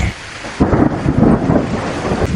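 A loud, close roll of thunder rumbling over steady rain, with the downpour continuing underneath as the thunder fades.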